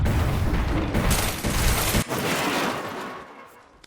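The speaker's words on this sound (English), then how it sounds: "Throwing thermite grenade." A thermite grenade burns in the Apex Legends video game, a loud, dense, roaring crackle that holds strong and then fades toward the end.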